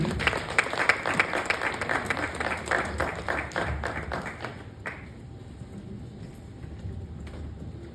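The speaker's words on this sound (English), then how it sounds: "I think we should keep the applause going." Audience applause at a lecture in Nigeria, a burst of distinct close claps over dense clapping that fades after about five seconds into a quieter room with scattered taps.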